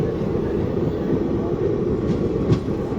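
A Veravál–Bhavnagar Terminus passenger train on a single-line route waits at a crossing station, a loud steady rumble of rolling rail noise with no voices.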